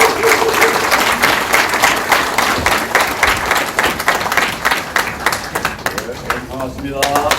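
Sustained crowd applause greets Liberty Korea Party leader Hwang Kyo-ahn at the first public report meeting of the Innovation and Unification Promotion Committee, a dense, even burst of clapping that holds steady, with voices faintly underneath.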